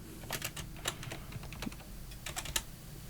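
Fingers type in quick, light, irregular bursts on a computer keyboard, with close, soft clicks against a quiet room.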